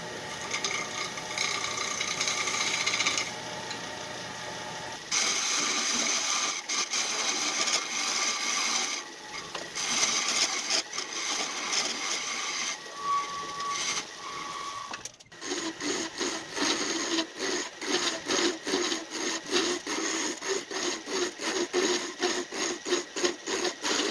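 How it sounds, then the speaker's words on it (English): A 1950 Craftsman King Seeley wood lathe turns a poplar dowel with a steady mechanical whir and rattle, shifting to a stronger, rhythmically pulsing tone partway through. "a 1950 model Craftsman King Sealy lathe"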